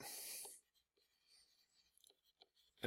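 Writing on a board during a high school geometry lesson on proving lines parallel: a brief, loud scratchy burst of strokes at the start, then faint scattered taps and scrapes in a quiet room.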